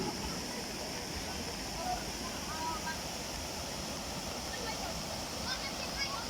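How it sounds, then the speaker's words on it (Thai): Water pours steadily at Huai Chan waterfall in Khun Han district, Sisaket, making a continuous close rushing noise with faint chirps scattered on top. "ไปดูบรรยากาศน้ำตกนะคะ"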